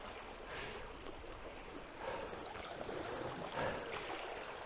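Rushing water of a strong current on the Warnow river, heard outdoors as a steady broadband wash with wind buffeting the microphone and swelling surges, no talking.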